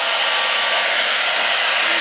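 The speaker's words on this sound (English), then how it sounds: "So now I'm going to get my hairdryer." A hair dryer blows steadily at close range on car vinyl stripes, a constant loud whooshing hiss with no talking.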